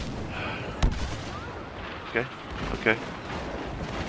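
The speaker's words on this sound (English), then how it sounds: "Throw a grenade." Grenade blasts and gunfire during a Star Wars Battlefront match on Jakku: three sharp, separate bursts over a steady game background, with a brief spoken word.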